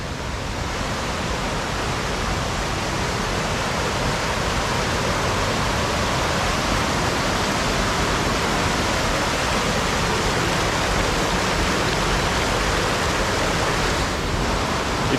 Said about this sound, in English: this creek is about as surged as it gets